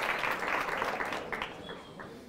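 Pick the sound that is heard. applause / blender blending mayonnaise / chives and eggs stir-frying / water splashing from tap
applause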